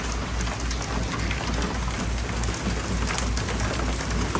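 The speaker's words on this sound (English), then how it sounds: "So wonderful to hear rain falling from the sky." Steady rain falling outdoors in large drops, a continuous dense patter with occasional sharper droplet hits, close and even throughout.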